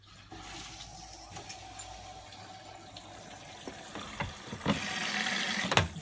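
A Bosch WFK2801 washing machine draws in water for its main wash, a steady rushing fill with a low hum, a few small clicks and knocks, growing louder and splashier toward the end.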